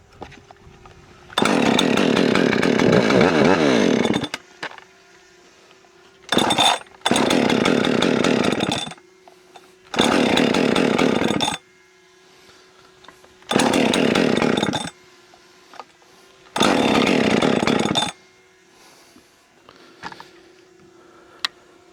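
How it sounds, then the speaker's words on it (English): Husqvarna 564 XPG chainsaws restarting after cooling down, six separate bursts of high-revving saw engine, each a few seconds long, separated by quieter idle and near-silence, loud and close. "Let the saws cool off just a little bit, see how they restart."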